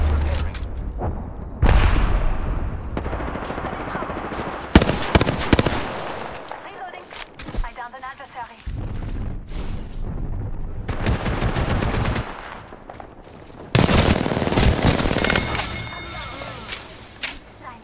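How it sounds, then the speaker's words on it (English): Rapid automatic gunfire and explosive bursts from the Apex Legends video game arrive in dense volleys, loud and close, with brief pauses between clusters of shots and voices talking over the fighting. "Getting shot at."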